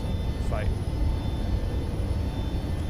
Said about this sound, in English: We'll hear the engines fight.